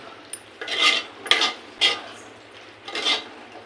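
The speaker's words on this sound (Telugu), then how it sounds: "ఇప్పుడు బాగా కలుపుకుందాము" A spoon scrapes and stirs through a pot of curry as chopped coriander is mixed in, four or five close, brisk scraping strokes over a faint low hum.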